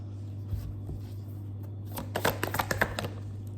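Tarot cards are handled and set aside on a surface, giving soft scattered shuffles and a quick cluster of light card slaps and flicks near the end, close and alone without talk.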